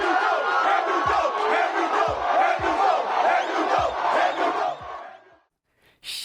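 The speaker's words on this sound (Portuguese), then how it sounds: "Lewis Hamilton e George Russell saudando a torcida apaixonada" Formula 1 fans cheering at Interlagos, a loud roaring crowd with rising shouts and a few low thumps, the roar dropping away abruptly near the end into near silence.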